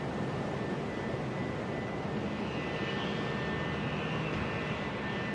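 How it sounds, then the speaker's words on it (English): Airplanes fly overhead during a pipe tournament, a continuous broad engine roar that stays steady and fairly loud throughout, with no talk over it. "It's like planes flying over."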